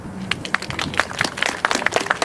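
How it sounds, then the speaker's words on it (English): Crowd clapping for Canadian parliamentarians at a commemoration on Parliament Hill, Ottawa: a brief, moderately loud patter of many hands, irregular and continuous, with no talk over it. "One more big round of applause to our honorable parliamentarian people."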